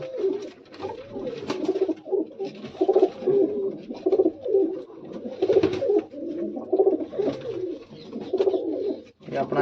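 Racing pigeons cooing repeatedly in soft, throaty bursts, close by, with rustling and faint movement in between.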